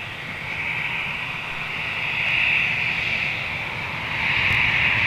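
An EasyJet airliner moves at London Gatwick in a northeasterly wind, a steady jet engine roar with a whining high tone that swells and eases slightly over several seconds, moderately loud with no talk.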